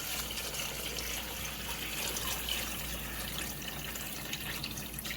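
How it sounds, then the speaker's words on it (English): Chicken stock poured gently into a cooking pot for brown stew chicken, a steady close wash of liquid splashing and trickling throughout, with no talking. "we're going to take my chicken stock and just gently pour it in."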